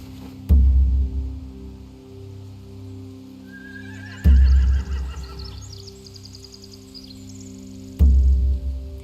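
Horses neigh in three loud, close whinnies, each starting with a heavy low burst and trailing into shrill, wavering calls.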